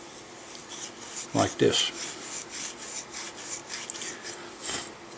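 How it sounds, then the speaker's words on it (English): Steel wool being rotated by hand against a muzzleloading gun's ramrod thimble, a series of soft, close rasping rubs in a steady back-and-forth rhythm, with someone briefly speaking. "hold a piece of steel wool on the end and rotate it"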